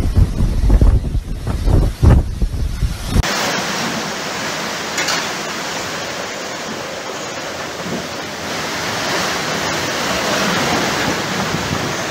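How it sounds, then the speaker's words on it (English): Heavy storm wind roars and buffets the microphone in strong gusts along the water, loud and rough at first, then settling into a sustained rushing howl. "a lot of these storm gusts along the water"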